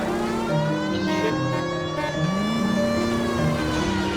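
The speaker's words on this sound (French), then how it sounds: "La sirène, bien sûr, toujours la sirène" A police car siren wails in L.A. Noire, a loud continuous rising and falling tone over the steady drone of the car's engine.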